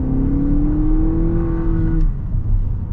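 A 2024 Lexus RX 350 F Sport SUV in sport mode accelerates hard, its engine note rising steadily in pitch as a loud, close drone, then easing off near the end.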